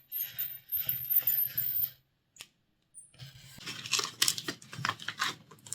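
A paper trouser pattern for Vogue V2051 barrel trousers is cut in two: close, crisp crinkling and snipping in bursts, a short pause and a lone click, then denser rustling and cutting.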